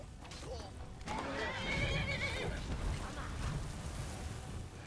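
A horse whinnies in a video game during a dragon fight in Skyrim, the neigh rising out of dense battle noise and rumble, with some talk in the background.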